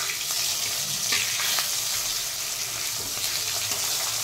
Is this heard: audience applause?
no